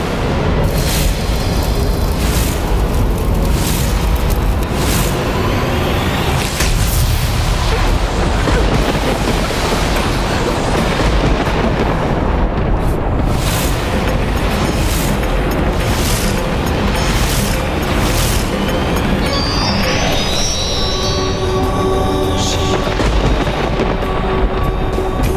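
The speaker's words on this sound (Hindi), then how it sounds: "जिसका महाविनाशक महाविस्फोट किसी भी क्षण होने वाला है" The divine Brahmastra weapon detonates in a mythological drama, a colossal sustained roar of booming blasts that repeat in rapid bursts, very loud and continuous, with sharp crackling flares near the end.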